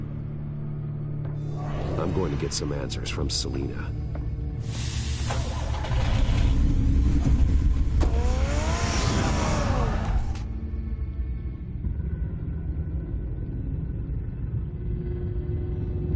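A car starts up and drives off in Batman: The Telltale Series, a low engine rumble swelling into a loud rushing burst mid-clip before easing back to a steady hum, with a voice speaking over it.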